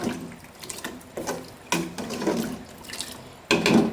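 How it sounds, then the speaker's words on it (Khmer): Water poured steadily into a cooking pot while making pork rice porridge, a continuous close splashing and gurgling stream with a few louder surges. "ចាក់ទឹកចូលតែម្ដង"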